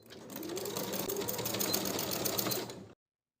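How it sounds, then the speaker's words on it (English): A sewing machine runs a short seam on a tank top's neck binding, a close, rapid mechanical chatter of stitches lasting about three seconds before stopping abruptly. "Sew the short seam with a 1/4 inch seam allowance and press the seam open."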